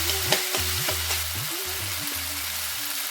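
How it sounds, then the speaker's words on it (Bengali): Ginger-garlic paste and raw onion fry in oil for dak bungalow chicken, a steady close sizzle with soft scraping stir strokes recurring through the short stretch. "আদা রসুন বাটা আর কাঁচা পেঁয়াজের গন্ধ না যাওয়া পর্যন্ত খুব ভালো করে কষে নিতে হবে।"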